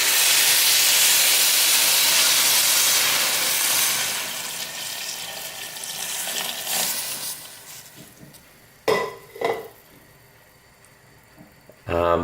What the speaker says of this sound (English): I'm gonna add a bit more water,